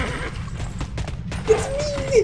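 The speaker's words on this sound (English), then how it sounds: "A horse!" A video-game horse neighs with a short whinny and hoof clip-clops, heard faintly under background game sound.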